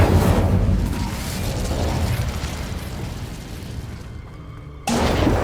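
An Incendio fire spell cast in Hogwarts Legacy: a loud, roaring burst of flame that rumbles on for several seconds, drops out sharply near the end, then flares back up.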